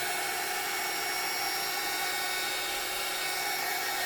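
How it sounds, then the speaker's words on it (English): Electric blower drying the edges of a junk journal cover, a steady, continuous high-pitched whir that holds at an even level throughout with no pauses and no talking. "I'm mainly running my blower around the edges"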